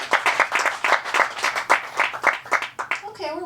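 A comedy club crowd at a stand-up set claps together in a steady patter of many hands, fairly close and moderately loud, before a voice starts talking at the very end.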